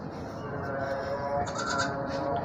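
Goat bleating amid a busy livestock market, a double-boned jumbo-size goat nearby, with a continuous crowd murmur and a few higher bleats rising above the din.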